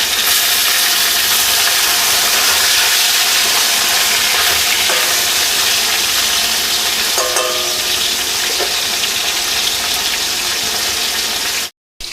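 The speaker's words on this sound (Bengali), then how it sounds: "এক এক করে ভেজে নিই" Tilapia fish pieces fry in a generous amount of oil, giving a loud, continuous close-up sizzle and hiss that holds steady for about eleven seconds, then cuts out briefly.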